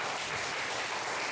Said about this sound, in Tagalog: Wala bang palakpak doon?